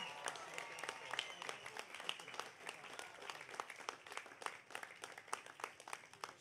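Crowd applause at the Taste of the Danforth festival's 25th anniversary opening ceremony, a continuous patter of many hands heard from a distance and fairly faint, sustained for several seconds.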